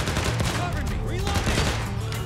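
Gunfire from the zombie shooter game Overkill's The Walking Dead during an attack on a camp, dense overlapping shots and bursts running continuously with loud chaotic combat noise throughout.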